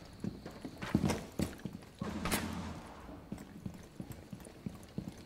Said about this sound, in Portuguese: Tô ouvindo o rapel dele.